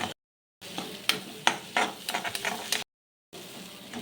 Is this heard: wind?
no